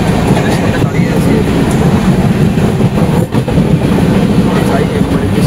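A passenger train running toward Sealdah after passing Bardhaman: a loud, steady rolling rumble and rattle of the carriages that carries on without a break.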